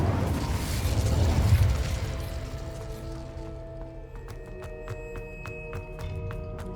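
A fire spell cast in Hogwarts Legacy gives a loud, broad whooshing burst that swells and then fades into a lingering tonal shimmer with light chiming plinks. No one speaks.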